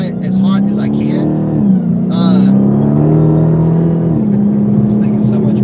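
A hot drag car on a run, its engine pulling up through rising revs in two strong surges with a shift between them, loud and close, with talk over it.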